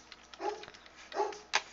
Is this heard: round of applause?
no